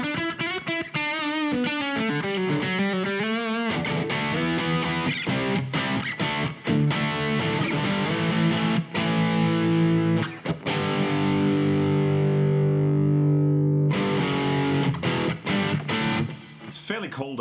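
Distorted electric guitar from a Rivolta guitar playing chords and riffs, loud and sustained with a gritty, overdriven tone, slight amp reverb and some brief pauses.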